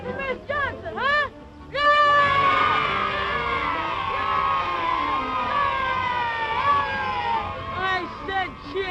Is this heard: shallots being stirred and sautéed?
no